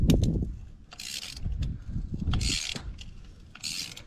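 A socket wrench with a 14 mm socket on a long bar unscrews spark plugs from an engine, giving repeated bursts of ratcheting clicks between dull metallic knocks, close and moderately loud.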